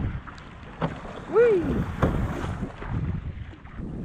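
A fishing boat rocks through rough, swirling offshore waves while wind buffets the microphone and water sloshes around the hull; a person lets out a brief excited cry partway through.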